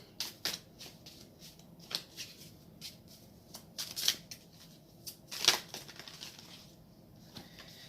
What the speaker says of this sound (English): we're gonna just get a good fill these cards and shuffle them